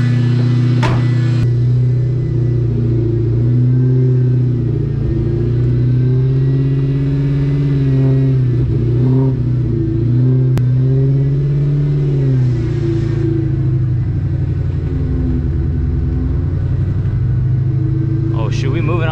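Supercharged Whipple-equipped Ford Cobra engine running at an unusually high idle on its first drive, a loud, steady droning rumble with slight pitch swells, while someone talks over it.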